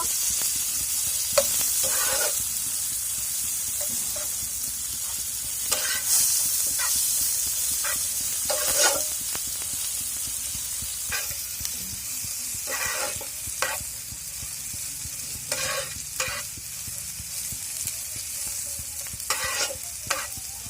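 Pointed gourd and chopped onion fry in a pan with a steady, close sizzle, broken by repeated scraping stirs every second or two; no one speaks.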